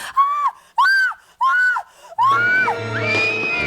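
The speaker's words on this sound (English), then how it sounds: "So number 2 is the whistle scream." A woman in the 1989 horror film Intruder lets out a series of short, high, piercing screams, three quick bursts followed by a longer wavering shriek.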